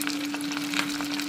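Lumpia frying in hot oil for a Thanksgiving meal, a steady close sizzle with crackling pops throughout, no voices.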